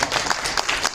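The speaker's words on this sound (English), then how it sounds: "I did want to give a round of applause for our panelists." A room full of attendees at a Star Wars Unlimited community panel applauds the panelists, a dense, steady burst of many hands clapping at close range.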